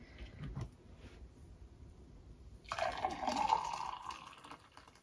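Apple juice poured from a jug into a cup, a steady close liquid stream starting partway through and running a couple of seconds before trailing off, after a quiet stretch.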